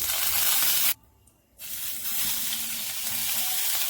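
Garlic, onion and coriander fry in a hot kadhai with a steady, loud broadband sizzle that cuts out briefly near the start, then resumes and continues to the end.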